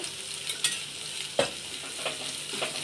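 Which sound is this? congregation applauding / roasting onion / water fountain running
roasting onion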